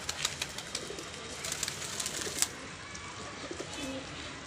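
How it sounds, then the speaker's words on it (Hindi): Pigeons flying overhead and cooing outdoors, soft repeated coos and light flutters over a constant background hiss. "कबूतर उड़ रहे थे ना अपने, उनमें एक कबूतर लग गया आके"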